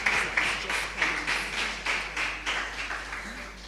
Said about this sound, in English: a round of applause for the organizers, for the committee members